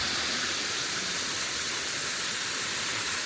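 A waterfall on the Brock Creek Waterfall Trail in Arkansas roars in a steady, loud, broadband rush of falling water, with no voices over it.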